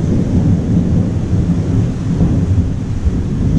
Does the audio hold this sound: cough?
no